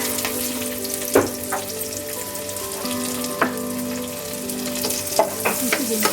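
Chopped chillies fry in leftover oil for a prawn masala gravy, giving a steady crackling sizzle with a few sharp stirring knocks against the pan, close and alone without voices.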